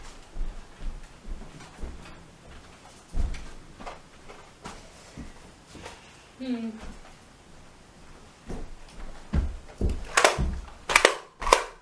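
A Nerf Elite Disruptor blaster fires in several sharp, close clicks and snaps spread through the clip, mixed with handling noises, and a voice talks between the shots.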